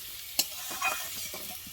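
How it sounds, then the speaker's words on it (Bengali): Spices fried with chili powder and green chilies for a pointed gourd curry sizzle in a pan while a spoon stirs them. A sharp scrape sounds near the start, then softer stirring clinks sit over a steady low hiss. "এই যে লাল লাল সুন্দর করে কষে নেবো"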